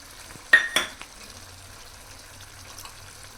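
Green masala paste for fish curry drops into a hot pan with two quick sizzling bursts, then a soft steady fry fades beneath faint kitchen noise.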